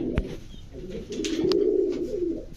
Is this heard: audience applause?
no